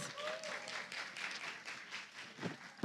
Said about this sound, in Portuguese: mandato de Beni Brioli, que merece outra salva de palmas